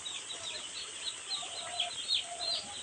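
Cheap young chicks kept for poultry raising, a chorus of high thin peeps and chirps repeating continuously at moderate distance.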